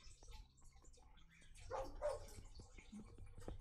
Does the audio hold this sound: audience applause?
no